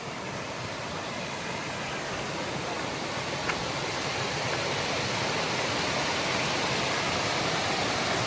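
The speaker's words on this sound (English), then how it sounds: "Look at the falls." A waterfall on a river along a foothills hiking trail, a loud, continuous broadband roar that holds steady and swells slightly, heard close with no voices.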